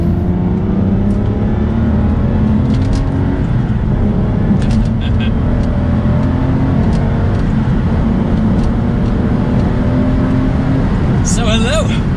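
Aston Martin DBS grand tourer driven on the road, its engine and exhaust a steady, loud droning hum with shifting tones heard from the cabin while a person talks over it.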